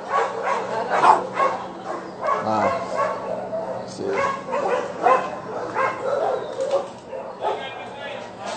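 A dog in a ransacked animal shelter barks, yips and whimpers in short bursts, mixed with a person talking close by.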